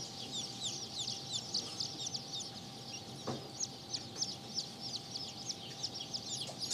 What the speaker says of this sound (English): This is the Spangled Old English Bantam.